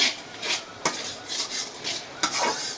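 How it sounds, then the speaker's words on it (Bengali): A spoon stirs salted hilsa fish masala in a pan, slow scraping strokes repeating about every half second over a faint sizzle, close and fairly quiet. "এটার মধ্যে লবণ দিয়ে দিচ্ছি। এইভাবে নেড়ে চেড়ে নেবেন।"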